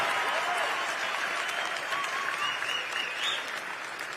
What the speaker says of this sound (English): can we give our friends in law enforcement a round of applause